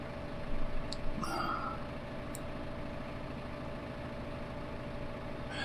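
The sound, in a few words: Steyr tractor engine idling in a farming video game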